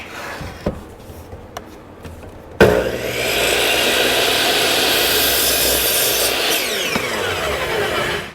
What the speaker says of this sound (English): run to the table saw and get this cut to the appropriate width